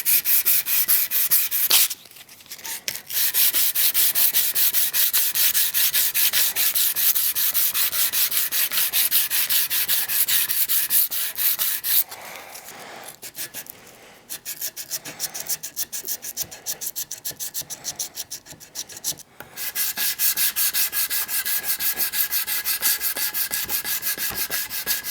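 A San Mai steel hunting knife blade is hand sanded in long, continuous rasping strokes that stay close and loud, with a few brief pauses and shifts in intensity partway through.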